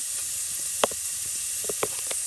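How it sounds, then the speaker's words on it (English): Bacon frying in a pan gives a steady, close hiss of sizzling fat, with a few sharp crackles and pops breaking through now and then. "fry up the bacon"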